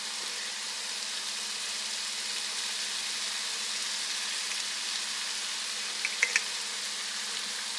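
A pan of leftover Tex-Mex filling fries with a soft, even sizzle as taco sauce is stirred in, a steady quiet hiss with a couple of faint spoon clicks near the end.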